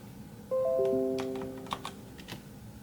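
Keystrokes on a Redragon K580 VATA mechanical keyboard with brown switches: a handful of sharp, close clicks in an uneven burst following a sustained electronic tone, in a quiet room with no talking.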